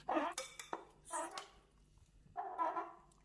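Ghee and spices being mixed in a pot with a spoon, a few quick clinks and scraping bursts with short pauses between, close and quiet.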